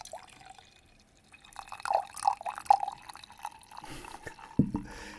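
Liquid pours into a cup in a few soft splashing bursts, then a brief thump at the end; fairly quiet and close, with no talk.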